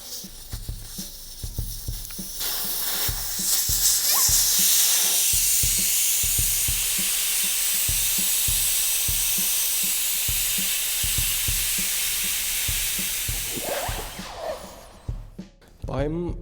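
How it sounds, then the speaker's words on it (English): Air hisses loudly and steadily out of a run-flat tyre as its valve core is unscrewed with a valve core remover, a broad rushing stream lasting about twelve seconds before tapering off, with faint background sounds around it. "To remove the tire, it's important to deflate it first. This means removing the valve cap and unscrewing the valve core with a valve core remover."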